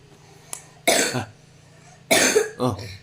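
Two harsh, loud coughing bursts close by, separated by a pause, the second followed by a short extra hack, with a faint click beforehand.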